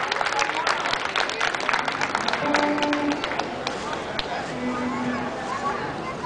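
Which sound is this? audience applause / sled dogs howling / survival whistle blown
audience applause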